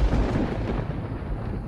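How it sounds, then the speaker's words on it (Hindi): Deep thunder rolls on through a heavy storm, a steady low rumble that fills the whole stretch with no breaks, broad and loud, with no voices over it. "बाहर जोरों से बादल गरज रहे थे।"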